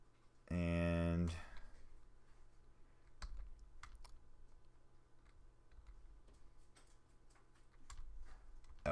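Typing on a computer keyboard during a Python programming session, with a dense loud burst of keystrokes near the start followed by a few scattered single key clicks against a quiet room hum.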